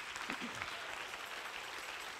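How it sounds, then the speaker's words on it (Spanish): Applause from a church congregation during a sermon, a steady wash of clapping held at an even level throughout, with no voices standing out. "Si ese es el aplauso"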